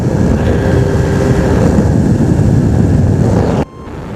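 A small aircraft engine drones steadily in flight, a loud, close, low rumble with a faint tonal whine. Near the end the sound drops abruptly to a quieter, thinner hum as power is reduced.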